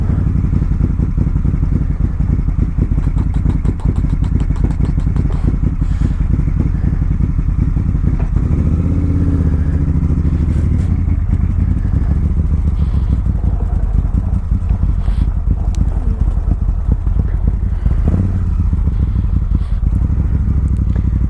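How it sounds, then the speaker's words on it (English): Engine of a 2013 Moto Guzzi California motorcycle running loud and close, a steady throbbing idle with rattly mechanical clatter that dips and settles around the middle, with no voices over it. "It's cool how when you fire it up, it kind of like shakes you this way because the cylinders are going like this."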